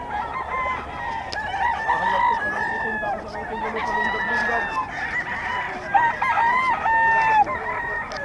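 Sweater gamefowl roosters at the Bocaue market crow over and over, several overlapping calls with clucks in between, loud and close, while someone talks faintly in the background.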